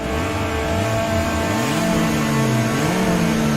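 Racing car engines in a video game race rev and accelerate continuously, their loud, close, rising and falling whine dominating, with pitch sweeps as gears change and no talk over them.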